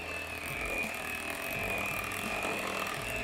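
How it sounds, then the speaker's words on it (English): Electric mixer blending pumpkin bread batter, a steady whirring motor drone with a faint high whine and a rattling, ratchet-like mechanical texture, running continuously at close range with no talking. "Keep blending this."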